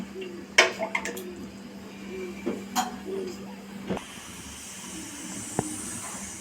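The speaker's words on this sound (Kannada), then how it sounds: "ನೀರು ಈ ಥರ ಪಳೆ ಪಳ ಕುದಿತಾ ಇರಬೇಕು" Water seasoned with a little salt and oil boils in a pot for making rotti, with a steady bubbling hiss that grows louder in the second half. A voice talks briefly over it at first, along with a few clinks.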